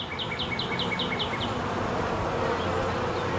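Honeybees buzz steadily around an open beehive during a frame inspection, a dense continuous hum with a run of high chirping insect notes early on, close and fairly loud throughout with no voices.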